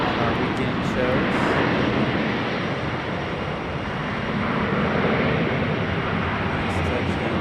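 A steady, broad roar from an airliner touching down at Raleigh-Durham airport, heard from a distance and holding level for several seconds, with people talking over it.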